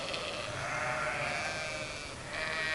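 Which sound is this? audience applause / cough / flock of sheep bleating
flock of sheep bleating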